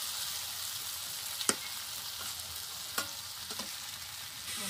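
Potatoes fry in a spice paste, giving a continuous soft sizzle broken by a few distinct scraping stir strokes, close up and quiet, with no speech.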